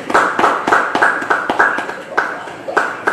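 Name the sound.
congregation applauding in church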